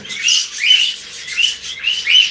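Pet birds in a home aviary chirp in four quick, bright rising calls, close and loud, with short gaps between them and no talking.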